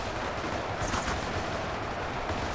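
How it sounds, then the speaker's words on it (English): Artillery and gunfire from the video game UEBS 2 crackle as a dense, continuous din of overlapping shots, fairly quiet and distant-sounding, with a sharper burst near the start and no voices. "the shots that are being fired by the artillery"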